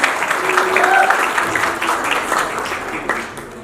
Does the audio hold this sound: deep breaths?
no